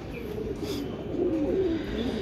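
Silver jabra pigeons give low, throaty coos that rise and fall close by, steady and moderately loud with no talking over them.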